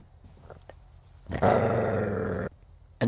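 A dog growls in a GTA RP roleplay video game, a loud, sustained rumbling burst of about a second that starts abruptly and cuts off, with quiet background before and after.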